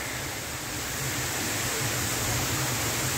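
The Dardagna waterfalls on a mountain trail in Italy, a dense, steady roar of falling water, close and continuous with no pauses.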